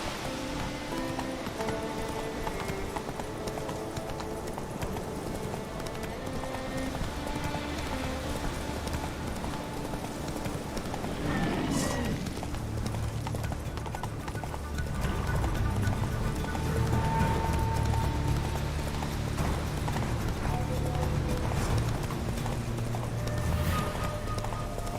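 Roach, a horse in The Witcher 3, gallops with a steady rhythmic clip-clop of hooves that grows louder and heavier midway, over a soft ambient bed without talk.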